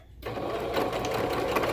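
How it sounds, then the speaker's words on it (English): Sewing machine top stitching fabric on children's pants, starting after a brief pause and running as a steady, close mechanical whir with a rapid needle rhythm. "and then you'll just top stitch over it"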